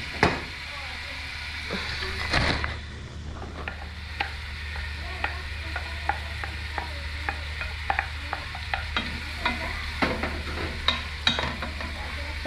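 Onions sizzle in hot olive oil in a pan, a steady frying hiss broken by repeated scraping stirs and clinks of a utensil, with occasional quiet speech.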